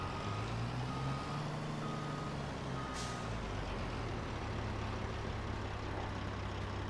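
A truck unloading in a farming game: a steady rumbling engine and a grinding, hissing dumping drone fill the whole stretch, with a short hiss of air partway through.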